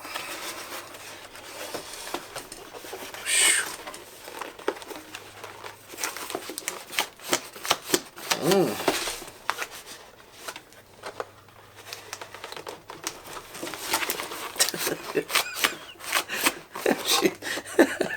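A DC Bombshells Mera statue box is opened in a run of close rustling, scraping and crinkling packaging noises with scattered sharp clicks and tearing, loud in bursts and without speech.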